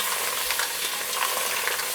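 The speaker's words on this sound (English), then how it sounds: "I'm going to give it a good stir." Kerrygold butter with garlic melts in a pot for mussels while being stirred, giving a close, steady sizzle and hiss with soft scraping of the stir.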